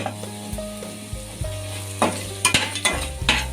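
Cashews and curry leaves frying in ghee with cumin in a pan, a steady sizzle broken by sharp spoon scrapes and clinks that grow busier toward the end, close and fairly loud with no talking.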